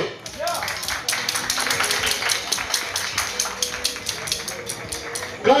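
An audience claps in a steady, even patter that lasts several seconds, close and moderately loud, with a voice heard briefly at the start and again at the end.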